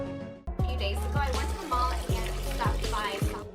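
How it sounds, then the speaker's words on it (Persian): Water pours steadily behind a girl indoors, a continuous splashing stream with repeated low surges, close and fairly loud, with no talking over it. "صدای ریختن آب از پشتش شنیده"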